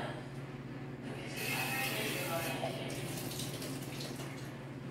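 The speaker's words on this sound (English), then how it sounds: "Pull a bit of water in." A tap runs water into a pot, the flow swelling stronger after the first second and continuing steadily over a low background hum.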